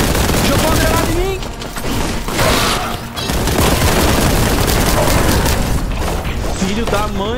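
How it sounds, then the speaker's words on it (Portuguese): Dense, loud combat in Warhammer 40k: Boltgun, with a grenade blast among rapid gunfire, heavy booms and continuous crashing, with a voice talking over the chaos. "Jogou uma granada em mim."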